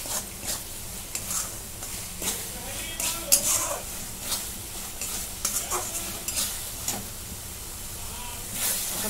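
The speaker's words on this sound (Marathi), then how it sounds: "आता मसाला आपला चांगला भाजून झालाय." A spoon stirs and scrapes through masala roasting in oil in a pan for shev bhaji, making rhythmic scraping strokes over a constant sizzle and an occasional clink of metal.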